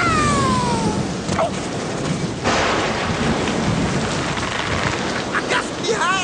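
A thunderstorm on a rainy day: heavy rain hisses continuously and loudly while deep thunder rumbles and cracks roll through, with a few brief sharper sounds on top.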